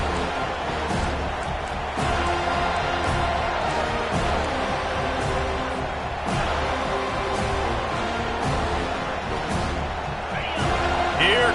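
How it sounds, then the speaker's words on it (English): A home crowd at a Miami at FSU college football game roars on third down as the defense tries to get off the field, a dense, continuous wash of cheering with occasional louder swells. "Here comes this home crowd as the defense tries to get off the field on 3rd down."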